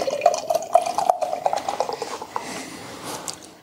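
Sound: Outer Range double IPA craft beer being poured

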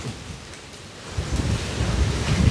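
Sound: strong storm wind

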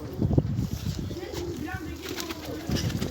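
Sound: birds cooing in a loft

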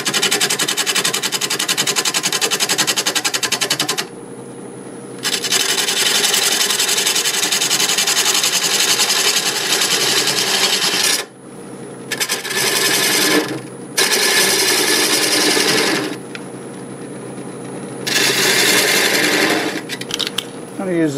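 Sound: wood lathe turning a mimosa wood vase

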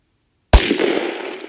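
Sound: gunshot from 10mm Glock 29 pistol, Liberty ammunition

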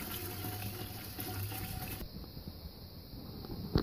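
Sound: filling a tire with liquid ballast

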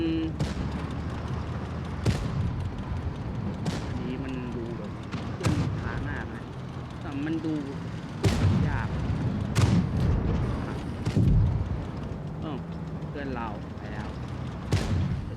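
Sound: tank cannon fire in video game World of Tanks

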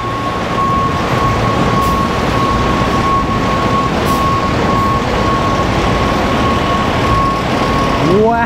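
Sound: recycling truck backing in with reversing beeps

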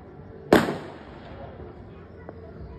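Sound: Diwali firecrackers bursting

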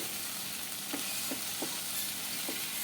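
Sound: sautéing bitter gourd and tomato in a pan

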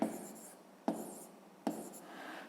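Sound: writing with a pen on paper

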